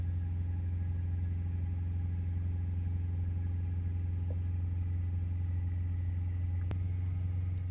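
A Ford Ranger 2.0 BiTurbo diesel engine with a particle filter restriction fault is held at 3000 RPM, giving a steady, even, continuous drone that stays constant throughout with no voices.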